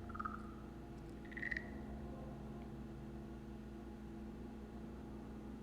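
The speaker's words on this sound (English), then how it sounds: "an unsettling croaking noise fills the air again" Eerie croaking calls in a visual novel game, two short tonal croaks near the start rising over a steady low hum and faint background drone, then nothing but the hum.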